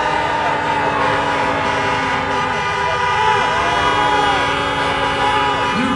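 Car horns honk among a crowd at a drive-in political rally in Pittsburgh, a dense, continuous wash of overlapping tones and blasts, with voices in the background.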